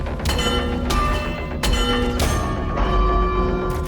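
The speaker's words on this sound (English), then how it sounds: "you can ring the bell. Like, you can, shooting it rings it, punching it rings it too" In Doom Eternal, a bell rings several times when it is shot or punched, each strike a loud metallic clang with a long, echoing ring that overlaps the next hit over a steady background drone.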